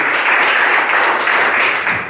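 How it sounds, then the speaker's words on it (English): Audience at a roundtable meeting claps for the senators, a dense, steady burst of applause from many hands lasting the whole moment. "let's give a round of applause to our senators for doing a great job"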